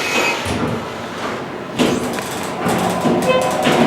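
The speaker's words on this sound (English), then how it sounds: "These doors are horrible." Doors of a Schindler 330A hydraulic elevator in a shopping mall garage slide and thump, with a rumbling roll and a clunk partway through, close and fairly loud over a low mechanical hum.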